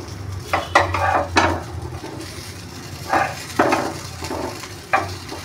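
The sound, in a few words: flipping stuffed bitter gourd frying in pan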